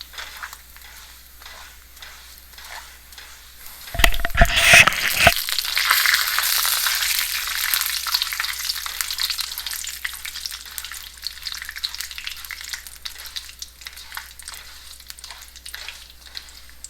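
Urad dal hits hot oil with a sudden burst of loud crackling sizzle, then settles into a steady frying hiss that fades slightly while staying constant, with no talking.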